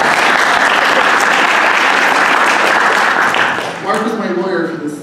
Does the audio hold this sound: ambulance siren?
no